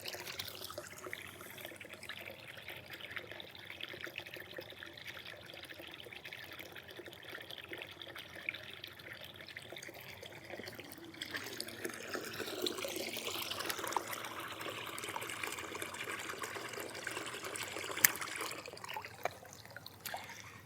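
A small solar-powered pond pump pushes water in a steady trickling, splashing flow that runs close and continuous with no break, growing a little louder and fuller partway through.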